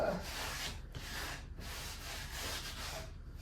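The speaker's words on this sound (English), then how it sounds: "I'll wipe off" A cloth wipes sanding dust off a wooden surface in several steady back-and-forth strokes with brief pauses, a close, soft, whooshing scrape.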